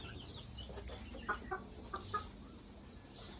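Chickens on a poultry farm cluck in soft, scattered bursts over a dense, noisy barn background, with a few sharper short calls standing out briefly and the flock sounding fairly distant.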